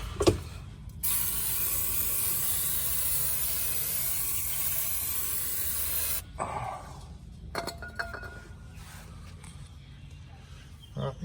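A continuous loud hiss of aerosol cleaner spray on a VE V6 Commodore during a heavy-duty clutch replacement runs for about five seconds, then stops, followed by scattered clicks and faint mechanical handling sounds.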